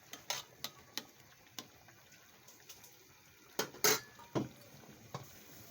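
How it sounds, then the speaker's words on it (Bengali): A lid set onto a cooking pot of hilsa fish simmering with winter radish, giving a few sharp metallic clinks and clatters, the loudest cluster near the middle, over a quiet kitchen background. "ঢাকনা দিয়ে দিলাম।"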